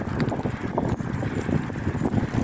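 Steady wind rumble buffets the microphone while cycling outdoors in cold wind, with low gusty noise and faint mechanical rattling.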